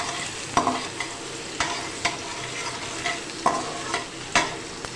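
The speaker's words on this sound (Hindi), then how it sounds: "तो सबसे पहले इसमें चॉप किया हुआ गार्लिक आप डालेंगी" Chopped garlic frying in hot oil in a pan with a steady sizzle, broken by several sharp clinks and scrapes of a spoon stirring at close range.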